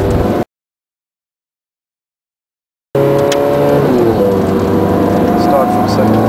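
A Ferrari 430 Scuderia engine pulls hard from second gear on a test drive, its loud rising howl filling the cabin after a brief silent gap, with someone speaking over it.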